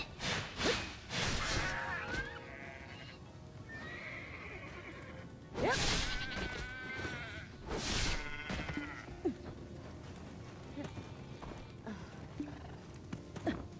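Repeated bleating of sheep in the video game Black Desert Online, several calls in a row, loud and close, with a horse-like whinny mixed in over background bustle.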